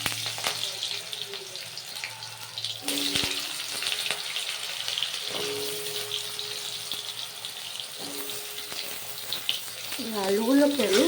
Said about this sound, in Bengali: আলুগুলোকে আমি হালকা ব্রাউন করে ভেজে নেব।